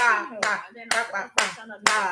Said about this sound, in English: let us clap for Justin for leaving after 4 days that baby Antenna was born